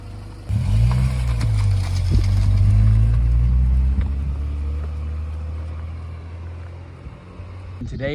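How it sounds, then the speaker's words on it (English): An Acura Integra DC2 engine starts up loud and close, then idles and revs as the car pulls off. Its steady drone slowly fades while faint tire and road noise continue. "let's take this car out and go for a little bit of a drive."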